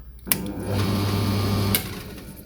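A drill press fitted with a treadmill motor, its start capacitors failing, clicks on and then hums up to a steady whine after a short lag before clicking off and winding down.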